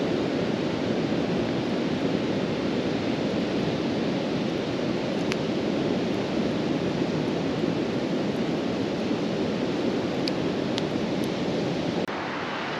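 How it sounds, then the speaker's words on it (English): Ocean surf rolls onto the beach at night at Padre Island National Seashore in Texas, a constant, even wash of noise that runs the whole time with no talking. "so you can probably hear the waves in the background."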